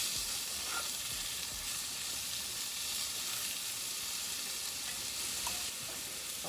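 Butter sizzles steadily in a frying pan while cod is pan-fried, a constant bright crackling hiss that stays loud and even throughout, with a few faint clinks from stirring.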